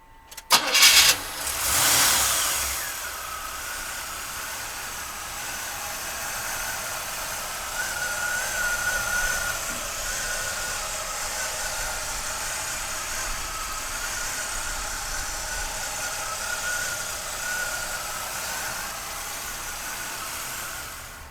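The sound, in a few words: 1979 Cadillac DeVille engine starting and idling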